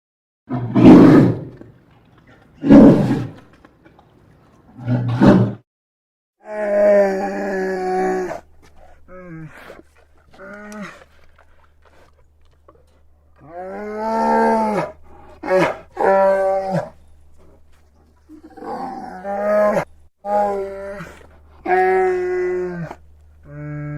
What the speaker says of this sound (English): we had to pull, just like Ben Burtt did, from existing animal sounds